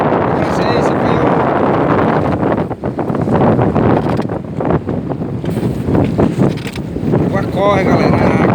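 Strong wind buffets the microphone over rushing water near lobster traps on a beach at Aquiraz, a steady loud roar with gusts throughout; someone talks over it.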